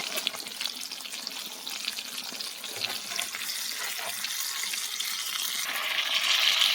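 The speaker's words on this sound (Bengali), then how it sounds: "একদিকে মাছ ভাজা বসিয়েছি" Pangas fish fries in a pan on a stove, giving a continuous hissing sizzle that grows gradually louder toward the end, with no talking.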